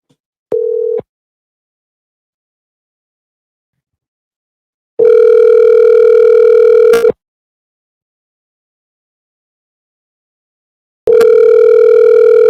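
Telephone tones sound while calling someone: a short beep, then two long steady ringback tones several seconds apart, loud and clean with silence between.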